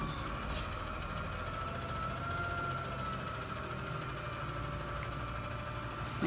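Garbage truck engine idles outside a window, a continuous low rumble with a faint tonal hum, steady and fairly distant, no talking.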